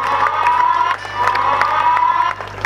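Audience at a Congolese media awards ceremony, second edition, cheering and clapping loudly and continuously, with whoops and shouts rising over a steady crowd roar for nearly three seconds.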